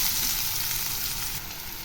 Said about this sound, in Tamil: வெங்காயம் போட்டு நல்லா ஃப்ரை பண்ணிடலாங்க.